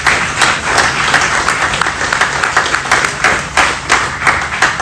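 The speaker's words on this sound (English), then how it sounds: "take a round of applause" An audience at a Memorial Day salute gives a round of loud, sustained applause, with many hands clapping densely and close by and no break for the whole stretch.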